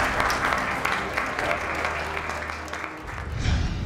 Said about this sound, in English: I think you give a round of applause before we tell you who's here